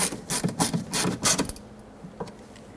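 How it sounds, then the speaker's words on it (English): A window regulator in the rear door of a 2006-2010 Hyundai Sonata is secured with a screw, giving a quick run of ratcheting, rubbing mechanical clicks up close, then a few faint taps. "Put this back in and re-secure it with the screw."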